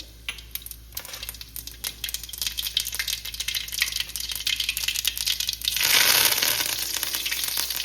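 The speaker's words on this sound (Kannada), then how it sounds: "ಇದಕ್ಕೆ ಇವಾಗ ಇನ್ನೊಂದು ಸ್ವಲ್ಪ ಎಣ್ಣೆ ಹಾಕ್ಕೊಂಡು, ಎಣ್ಣೆ ಕಾದ್ಮೇಲೆ ಸಾಸಿವೆ" Mustard seeds crackle and pop in hot oil in a home kitchen, a busy stream of sharp sizzling crackles that swells into a loud, dense spatter near the end.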